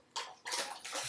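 Evaporated milk is poured a little at a time into pumpkin pie filling, making a short, close, splashy liquid stream that starts, briefly eases, then runs on steadily.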